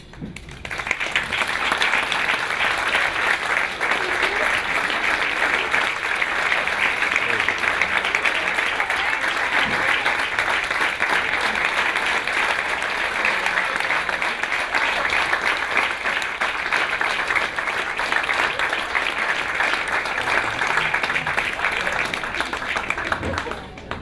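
A dinner audience at the inaugural event in a restaurant, North End Grill, gives young scientists a long, sustained round of applause, dense steady clapping lasting over twenty seconds with voices mixed in.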